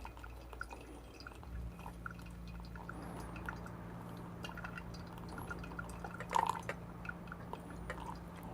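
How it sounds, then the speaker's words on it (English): Hot water poured steadily into a Tricolate coffee brewer while making coffee, a soft continuous liquid trickle with faint drips over a low steady hum, fairly quiet and close, with no talking. "I'm just going to put rest of water in."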